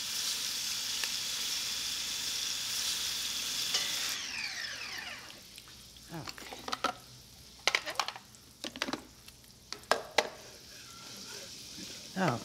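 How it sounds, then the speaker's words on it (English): Lots of garlic caramelizes in a pan for a beef and potato goulash with a little bacon, giving a steady sizzle at first, then sharp crackles and stirring scrapes toward the end. "Garlic, lots of garlic, and this is caramelized nice."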